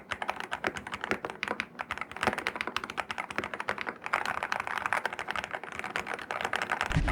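Rapid, clicky keystrokes on a budget mechanical keyboard rattle in quick, uneven bursts, close and crisp, with no talking.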